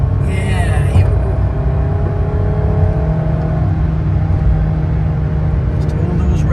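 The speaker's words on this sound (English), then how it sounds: "now you're starting to hear the Cosworth engine" A 30-year-old low-mileage Mercedes 190E 2.5-16V with its Cosworth engine pulls hard while being driven on a winding road, the engine rumbling and revving steadily and loud inside the car throughout.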